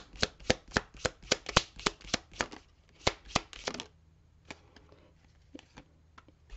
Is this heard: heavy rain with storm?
no